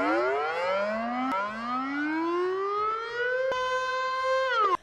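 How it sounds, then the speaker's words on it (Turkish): A Dutch civil defense siren sounds during its monthly noon test, a wailing tone that slowly climbs in pitch with a couple of brief restarts before cutting off abruptly, heard at a moderate distance and alone. "Böyle yavaştan gitgide artarak giden bir siren sesi duyuluyor."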